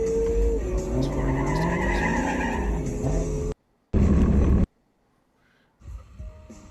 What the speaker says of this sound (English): there's like Ferraris and all sorts of crazy cars around me